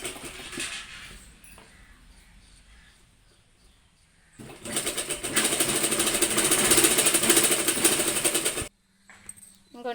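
A home sewing machine stitching a fall onto a saree, starting with a quieter slow run, then whirring loudly with a fast steady needle rhythm for several seconds before stopping abruptly.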